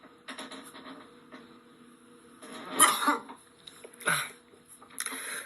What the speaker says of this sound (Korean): 잠깐만 기침 나올 것 같아